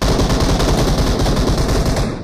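An automatic grenade launcher fires in the video game BGMI, a loud, rapid burst of repeated heavy thumps that holds a fast, steady rhythm for about two seconds before fading.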